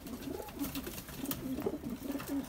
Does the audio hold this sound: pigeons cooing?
yes